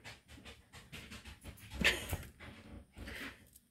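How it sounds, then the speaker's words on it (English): A hound dog panting indoors, a steady run of quick, breathy huffs at close range with a slightly louder snort-like puff midway, fairly quiet overall. "My hound dog just wandering around."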